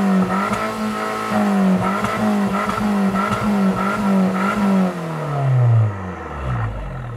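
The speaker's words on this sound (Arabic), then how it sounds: "اسمع صوت التوربو، صوت الإكزوست" A 2018 Fiat Abarth 595 with short exhaust and turbo downpipe revs loudly and close, its pulsing engine climbing and falling repeatedly before the revs drop away at the end, with no voices.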